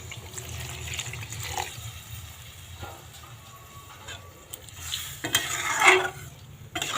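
Water poured into a pan of frying katla fish curry with potato and cauliflower, bringing a burst of bubbling hiss near the end after softer stirring scrapes and utensil clinks.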